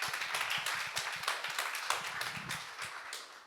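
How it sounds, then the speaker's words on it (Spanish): Audience applause at a book presentation on intercultural and community mediation, welcoming a speaker to the podium: brisk, dense clapping from a moderately sized crowd, fairly close and even throughout. "Recibamos con un fuerte aplauso a la magíster Amparo Moreno Goff."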